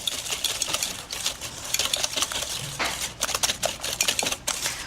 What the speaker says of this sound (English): So we'll whisk this together.